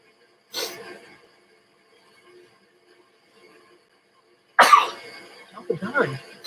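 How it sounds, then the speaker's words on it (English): Two sharp sneezes burst out up close several seconds apart, the second followed by a breathy, sputtering tail, with quiet pauses around them. "Going into a sneezing fit here."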